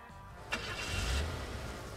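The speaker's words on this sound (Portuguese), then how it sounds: "Ó, e lá se vai o caminhão" A truck pulls away at a gas station in Gas Station Simulator, its engine rising and rumbling briefly after a sharp start, close and fairly loud.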